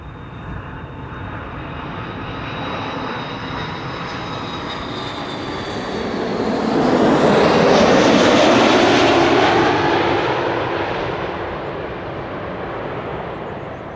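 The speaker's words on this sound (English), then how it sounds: "This is KLM flight 767, arriving from Bonaire, A330-300" A KLM Airbus A330-300 arriving at Schiphol's Polderbaan runway 18R roars overhead, its jet engine noise building to a loud close pass midway and then slowly fading, with a faint whine at the start.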